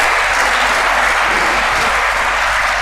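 Audience applause at a university career fair held in Kenya, a dense, steady clapping from a large crowd that fills the whole stretch at high volume without pause.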